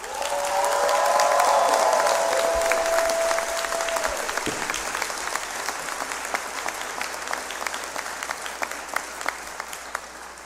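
A large audience applauds the College of Law faculty at a FAMU Law hooding ceremony. The clapping is loud and sustained for the whole stretch, with a bright whistle rising over it early on.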